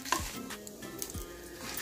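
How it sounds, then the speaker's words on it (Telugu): Peanuts and dried red chillies frying lightly in a pan, a soft sizzle with a few scattered crackles and light stirring scrapes, quiet and close. "ఇప్పుడు లైట్ గా దీన్ని ఫ్రై చేసుకుందాము"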